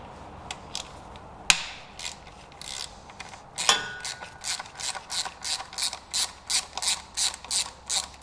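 A ratchet with a Torx 40 socket loosens the transmission pan screws on a Range Rover Sport 6HP26 gearbox, with a few sharp metallic clicks followed by a steady run of close, rhythmic ratcheting pawl clicks, and no talk.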